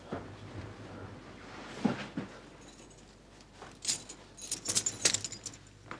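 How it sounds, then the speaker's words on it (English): Keys jangle in a few bursts, a brief rattle early, then a longer run of metallic clinks near the end, close and fairly clear over a quiet background. "Get the keys off him."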